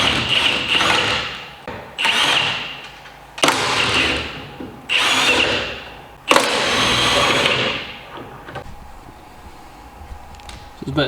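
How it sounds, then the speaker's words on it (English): A second-hand Milwaukee impact gun removes coilovers from a Nissan S14 drift car in five loud, close bursts of whirring hammering. The last burst runs longest before fading into quiet workshop ambience. "got a new impact gun, second hand, but Milwaukee. So yeah, I'll just take the coilovers off"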